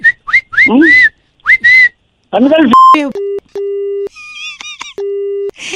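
Whistling carried over a phone line during a prank call, with voices talking at first and then steady electronic tones alternating with high, wavering whistles.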